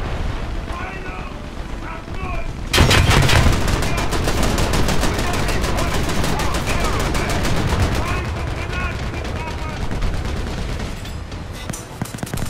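Naval ship guns fire in War Thunder: after a quieter opening, loud, dense rapid bursts of gunfire erupt and keep rattling almost without pause until the end, with voices speaking over the battle.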